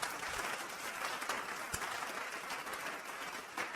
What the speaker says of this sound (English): He didn't get that much of an applause yet.